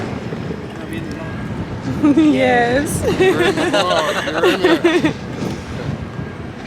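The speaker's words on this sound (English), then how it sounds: "It's kind of windy, but that's what this thing is for." Wind buffets a Royal Caribbean cruise ship deck in Honduras, a constant low rumbling roar against the microphone, while a person talks over it.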